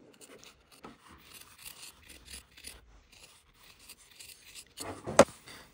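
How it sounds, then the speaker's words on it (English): Scissors trim the sewn seam allowance on pants fabric, quiet scattered snips and rubbing of cloth close by, ending with a sharper cut. "We're trimming away that seam allowance."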